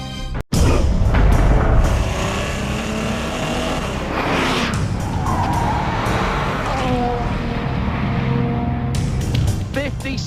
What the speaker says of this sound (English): The two Audis are coming through the Ford chicane.